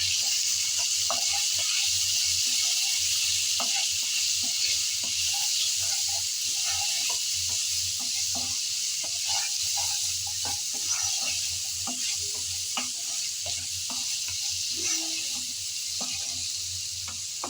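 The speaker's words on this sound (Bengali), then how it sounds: "সব মশলা দেওয়ার পর এখন নেড়ে চেড়ে আলুটাকে ভালোভাবে একটু ভেজে নেব।" Spiced potatoes frying in a pan, a constant loud hissing sizzle with scattered clicks and scrapes of stirring throughout, close up with no talking.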